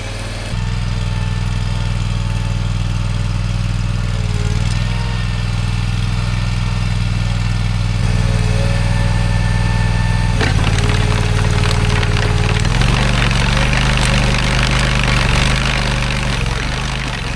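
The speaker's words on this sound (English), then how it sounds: "I went ahead and dropped the blade and started trenching my way out" A rented trencher's engine runs steadily and loudly while cutting a trench for a water pipe down sandy, descending ground, with a constant low drone and harsher grinding and scraping from the blade in the latter part.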